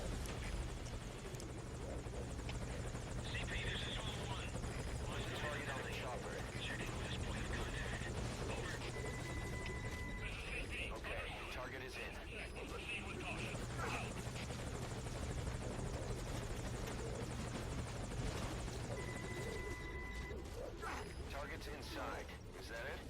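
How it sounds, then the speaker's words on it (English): Helicopter arriving in the video game Metal Gear Solid V: Ground Zeroes, a steady rotor and engine drone holding throughout, with voices talking over it. "when the helicopter arrives, you're just going to load all of the prisoners on board"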